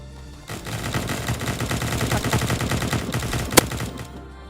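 Soldiers firing in the video game The Resistance Tycoon, a dense continuous rattle of rapid gunfire with one sharper crack near the end, steady and fairly loud.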